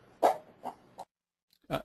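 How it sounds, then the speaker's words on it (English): A dog barks four times in short, loud bursts with pauses between them, sounding close by indoors during a live stream; no one speaks. "my dog is making a lot of noise"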